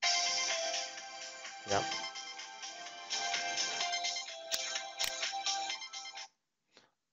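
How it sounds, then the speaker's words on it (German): Ringback tone of a test call placed through a FreePBX/Asterisk phone system, a steady electronic ringing pattern filling several seconds, with a brief spoken word near the end. "So, und diese Nummer rufen wir jetzt mal an."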